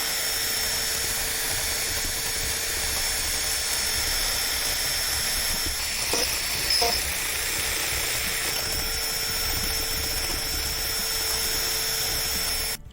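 A rotary grinding wheel works steadily against the bone of a deer skull cap, producing a continuous high whine and hiss with brief shifts in pitch partway through.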